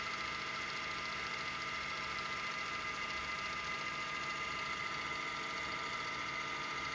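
An electric driving motor turning at about 2024 RPM spins a permanent magnet alternator, giving a steady, even whine and hum that holds close and constant throughout.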